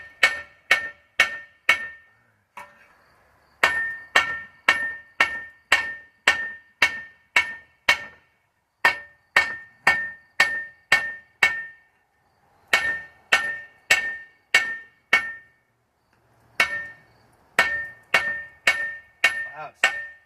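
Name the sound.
hammering tent stakes on an anvil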